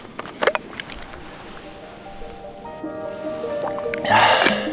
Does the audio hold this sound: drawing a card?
no